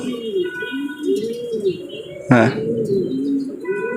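Pigeon cooing close by, a continuous low wavering coo under a voice, broken by a sudden sharp burst midway.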